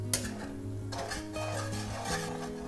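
Onions stirred with a ladle in a pan over medium-low heat, giving soft scraping and rubbing strokes against a low, steady background hum.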